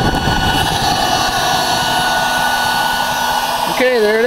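The lit burner of a Vulcan Gasifier SGU, an M-1 pre-production model, gives a loud, steady, blower-like roar with a constant tone; near the end the pitch begins to waver.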